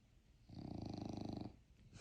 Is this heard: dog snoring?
yes